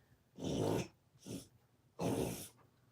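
An overweight dog snorts and honks in three rough, breathy bursts, two long and one short, close and fairly quiet with brief silences between them.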